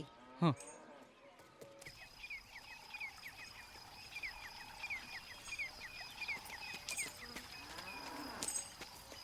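A calf and cattle on a farm: a single low moo comes early, then quieter rustling and repeated light bird twitters continue in the background.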